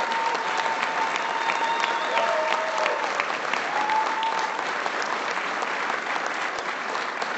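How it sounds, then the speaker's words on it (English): Steady applause from a political convention crowd for a team of state legislators, sustained dense clapping at a moderate distance, even in level throughout, with faint voices blended in. "Give these guys a round of applause."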